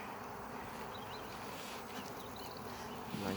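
Honeybees buzz steadily inside a hive during a spring transfer of the colony to a new box, a dense continuous hum close by, with no talking.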